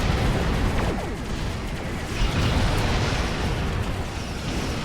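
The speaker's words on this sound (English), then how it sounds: "Firing weapons." Starship weapons fire in Star Trek Online as a dense, continuous roar of explosive blasts and crackling bursts, loud and unbroken throughout with no voices.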